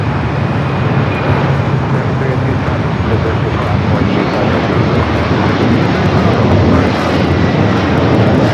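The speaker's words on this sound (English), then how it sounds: "another Delta Heavy, Delta Flight 427 coming in from Honolulu" A Delta Boeing 767-300ER arriving from Honolulu lands at LAX, heard as a loud, continuous broadband jet roar that holds steady without a break.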